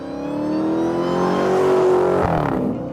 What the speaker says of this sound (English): A big, loud, 8-cylinder engine found in many of the vehicles collectively known by the MOPAR or Chrysler names